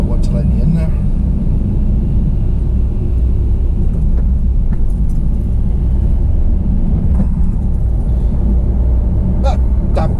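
Inside a moving car, a loud, steady road rumble carries the engine and tyre noise of nearby traffic, with someone talking over it throughout.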